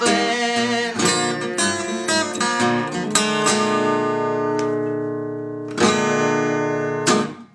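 Blues guitar playing the verse of a blues song, with strummed chords and picked notes ringing close and full, several sharp attacks and sustained chords letting notes decay.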